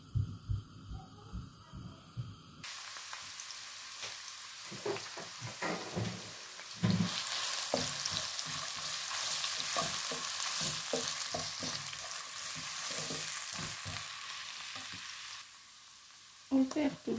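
Curry bhaji fries in a pot with a steady sizzle and occasional stirring scrapes, close and moderate, some clatter at the start and end, no voices.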